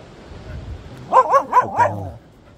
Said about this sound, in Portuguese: Temos cão aqui.